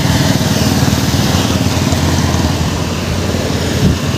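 Motorcycle engine droning while riding on a bike, a loud steady buzzing hum with wind rush throughout, no voices.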